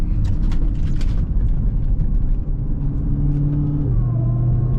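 A Dodge Hellcat Charger's engine roars loudly and continuously as the car accelerates, heard close from inside the cabin, a heavy low rumble that climbs and settles in pitch as it pulls.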